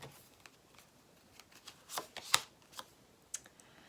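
Tarot cards are shuffled and drawn by hand in a quiet room, with a series of soft, brief riffles and slaps that peak sharply midway and then trail off.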